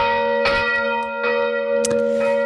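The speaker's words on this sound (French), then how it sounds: "ce sont les 8 cloches qui occupaient la tour nord de Notre-Dame, qui sont de retour" The Notre-Dame north tower church bells ring loud and near, with sustained tones overlapping while fresh strikes land about every second.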